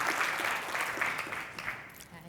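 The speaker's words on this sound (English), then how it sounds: "let's give Carlin a round of applause" An audience claps for a volunteer at a talk or workshop, a short, fairly soft burst of applause that holds steady and tapers slightly.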